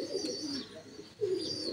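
Well-fed pigeons coo softly in a loft, two low rolling coos separated by a pause, close by but quiet, with faint chirps and a steady background hiss.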